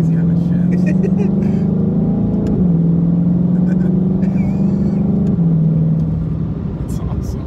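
A 2020 Ford Mustang Shelby GT500 Track Pack engine drones loudly from inside the car on a highway, holding a steady pitch with quick shift steps and slight rises, while occupants talk over it.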